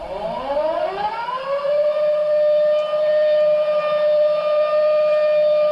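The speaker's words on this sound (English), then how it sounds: "This is the sound you hear aboard Sea Venture if she ever touches the edge of that circle." An anchor alarm sounds aboard a trawler cruising in Alaska. It is a loud, steady electronic siren tone that sweeps upward at the start and then holds a continuous pitch without a break, with faint background noise.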